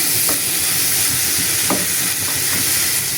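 Onions hiss and crackle loudly in hot oil for a mixed vegetable curry, a dense continuous sizzle with a few sharp stirring clicks, and no voices.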